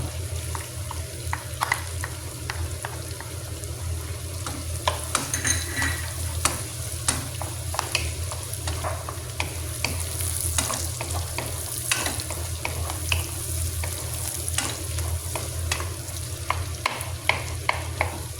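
Garlic sizzles steadily in a hot pan for a creamy garlic butter shrimp dish, with a constant frying hiss and frequent scraping, clinking stirs of a utensil against the pan, close and continuous, with no talking.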